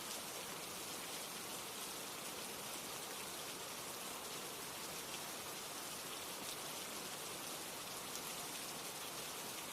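Steady rain pours without pause for the full length, a dense, even hiss of drops on surfaces close by, with no voices or other sounds breaking through.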